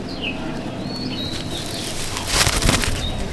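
Wings of an aggressive pigeon flap in a loft, close and fairly loud, with a stronger burst of flapping near the end over steady background noise.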